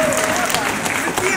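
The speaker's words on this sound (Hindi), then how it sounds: "पूरी आज तालियों की आवाज से गूंज जाएगी" A hall audience claps in steady, dense applause for a moment, with a voice heard faintly over it.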